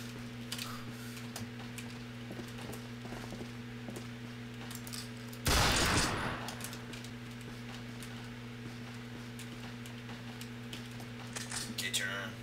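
A Ruger Gunsite Scout Rifle fires once in the shooter game Combat Arms: a single sharp, loud crack about midway through, over a steady electrical hum, with faint clicks and light rattles around it.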